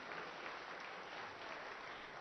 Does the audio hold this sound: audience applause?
yes